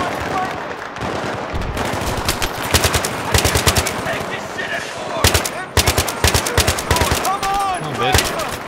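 Machine gun fire from an MG nest in the video game Battlefield 3, with repeated loud rapid bursts separated by short gaps, and voices talking between and under the shots.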